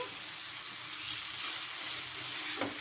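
Ginger frying in golden onion paste for a fish curry gives a steady, close hiss of sizzling oil with a faint stir near the end and no voices.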